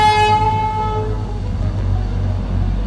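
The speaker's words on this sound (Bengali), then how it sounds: "এই দার্জিলিং স্টেশন থেকে টয় ট্রেন বের হচ্ছে" The Darjeeling toy train sounds a loud horn as it pulls out of Darjeeling station, the blast fading into a steady low rumble of the moving train.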